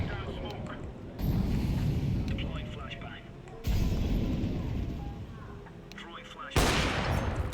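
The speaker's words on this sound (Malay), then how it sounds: "Tembakan mengejut." Gunfire in Counter-Strike 2 on the Dust II map comes in dense bursts that start abruptly and rattle on continuously, loud and close, with a sharp new volley near the end.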